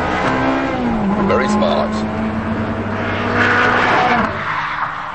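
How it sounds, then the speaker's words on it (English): Ferrari 360 Modena V8 accelerating hard through smooth paddle-shift upchanges, a loud continuous engine note rising and dropping at each gear change, heard beneath a voice. "this automatic up change is very effective, very smooth. Up with the paddle on the right, down with the paddles on the left."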